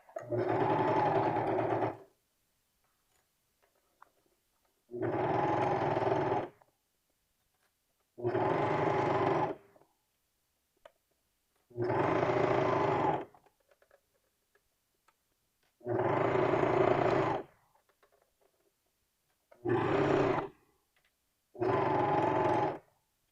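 A sewing machine stitches a T-shirt neckband in seven slow, separate bursts of about two seconds each, with quiet pauses between them, close and clear, with no talk.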